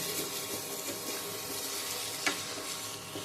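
Chili paste sizzles steadily in a pan while being fried for a spicy homestyle mutton curry. A soft, constant hiss continues alongside occasional stirring scrapes and one sharper clink.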